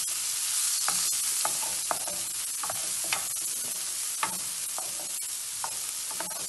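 Onion frying in a pan over medium heat, a constant crackling sizzle with frequent scraping stirs and light clinks of a utensil, close and unaccompanied by speech.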